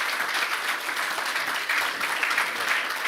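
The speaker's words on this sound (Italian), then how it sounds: "vi chiedo un applauso di ringraziamento ai nostri ospiti" An audience at an Italian conference on the geoeconomics of 2022 applauds to thank the guests, with a dense, steady clapping that holds at an even level for a few seconds and no speech over it.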